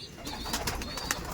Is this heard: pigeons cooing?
yes